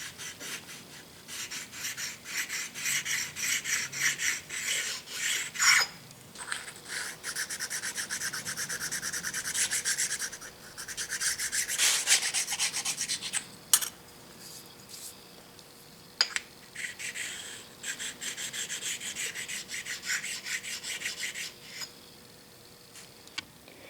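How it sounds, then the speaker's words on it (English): Tapered slip stones honing a South Bend shaper part, giving steady close rubbing and abrasive scraping strokes in bursts with short pauses, fairly quiet with no talk. "I have some of these tapered slip stones in various sizes, and those are useful in getting into those tight spots."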